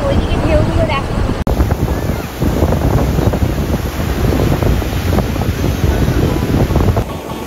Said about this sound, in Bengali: দেখো ওইদিকে ঢেউগুলো দেখো